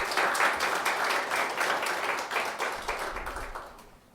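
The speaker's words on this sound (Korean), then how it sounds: "우리 하나님께 감사와 영광의 박수 올려드리겠습니다." Congregational applause fills a Sunday church worship service, a dense steady wash of many hands clapping that stays loud before thinning and fading toward the end.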